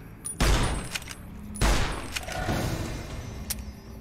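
Gunfire in Fallout: New Vegas, including a combat shotgun: two loud, close blasts about a second apart, each followed by a rolling echo, with fainter shots and battle noise between and after.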